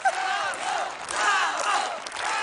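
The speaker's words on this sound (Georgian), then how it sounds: "დატკბი შენი აპლოდისმენტებით," A studio audience at a Georgian TV game show roars with sustained cheering and whooping, a dense crowd of voices rising and falling in waves, loud and close.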